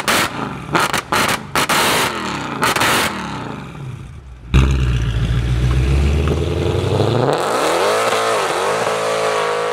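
A Mercedes C63 AMG driving, with loud close engine roar and revving, gear changes and shifting pitch as it accelerates, after some sharp handling noises at the start.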